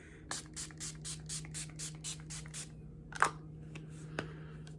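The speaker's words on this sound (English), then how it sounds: "I went with the Hydrate and Fix by Revolution. Spray the face." Revolution Hydrate and Fix setting spray is spritzed onto a face in a quick series of about eight short hissing bursts, then a single louder spray, close and quiet.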